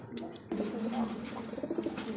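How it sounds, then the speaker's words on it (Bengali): Soft, repeated cooing of a pair of Bombay pigeons nearby, low and throaty, with light background noise throughout. "এক জোড়া বোম্বাই কবুতর"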